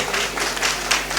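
An audience at a Thirukalyanam temple festival event in Thoothukudi applauds the speaker Sumathi Sri, a brief, dense burst of many hands clapping close and loud.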